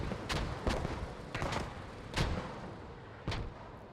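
Mortar fire in the WWII shooter game Post Scriptum, with several heavy booming impacts landing one after another at uneven intervals over a constant battlefield rumble.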